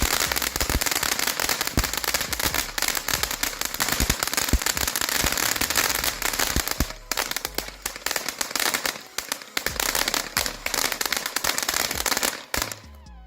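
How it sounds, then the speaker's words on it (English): A TNT brand California Safe and Sane ground firework erupts in a dense, sustained crackle of rapid popping bursts, loud and close, running for about thirteen seconds with a brief lull midway and a sudden stop near the end. "And then bam, massive crackle on this one."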